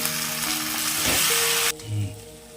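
Tomato goes into hot oil in a pan with loud, steady sizzling and frying crackle, then a stir-scrape; the hiss suddenly drops away to a softer bubbling near the end.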